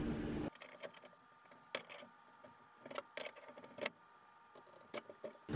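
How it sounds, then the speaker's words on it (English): Two wrenches tighten a fitting during an RV range installation, giving sparse metallic clicks and light scraping taps at close range in a quiet space, after a brief burst of noise at the start. "we'll use two wrenches here to tighten this"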